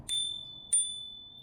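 A second bell added to a Brompton M6L folding bicycle gives two bright, high-pitched dings, each leaving a clear ring that lingers and fades.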